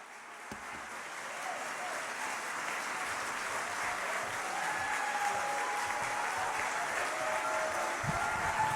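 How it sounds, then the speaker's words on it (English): Crowd applause at a healthcare activists' rally on Long Island welcoming a congressman to the stage, a broad, steady roar of clapping that builds gradually and holds strong throughout. "Big round of applause for Tom Suozzi."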